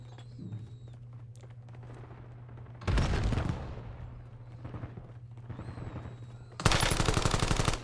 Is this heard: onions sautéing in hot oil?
no